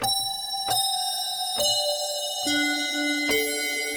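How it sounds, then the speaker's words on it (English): FM synthesis bell lead played on the Dexed DX7 emulation in a synthwave track: five sustained, shimmering bell notes struck about once a second, each at a new pitch, clear and upfront with no voices. "What else for that kind of FM synthesis bell sound?"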